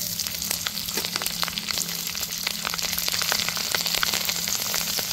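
Five-spice seeds and torn green chillies hitting hot oil, a dense, continuous sizzle with rapid crackling spits, loud and close.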